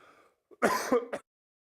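A single harsh cough from a person recovering from RSV, close and fairly loud, preceded by a short breath and ending in a brief second burst, then silence, while flying an aircraft.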